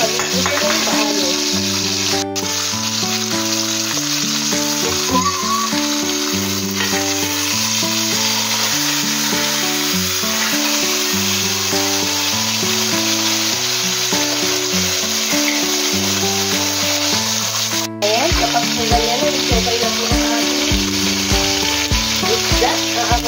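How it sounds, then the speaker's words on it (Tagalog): Tilapia frying in a pan of hot oil, a steady loud sizzle running continuously for the whole stretch with music playing underneath and no talk. "kawali at langis, ilalagay na po natin ang ating isdang tilapia"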